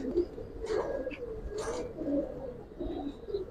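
Silver Giribaz pigeons coo in soft, repeated low calls close by, with light rustling and background noise between them.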